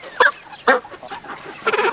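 A few short clucking bursts from a chicken close by, spaced irregularly with quieter chatter between them.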